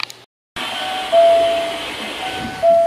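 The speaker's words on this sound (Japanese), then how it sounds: "電車は箕面駅を出発しました。" Hankyu eight-car train bound for Osaka-Umeda departing Minoh station on the Minoh Line; after a brief silence, a loud, steady rumble of rolling rail noise builds, with sustained tonal whines rising over it.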